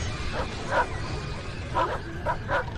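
Dogs in The Thing horror video game bark and yip in short bursts, about five quick yelps spread over a few seconds, heard at moderate distance over a low rumbling game backdrop.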